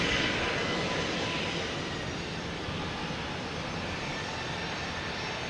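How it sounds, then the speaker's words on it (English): A NetJets business jet takes off at Boston Logan Airport, a steady broad engine roar that fades slightly and holds without a break. "next takeoff is a NetJets heading to Brunswick."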